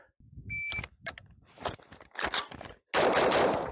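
Pistol shots fired at a shooting range, a few sharp cracks spaced unevenly with quieter handling noises between them, ending in a louder sustained burst, close to the listener.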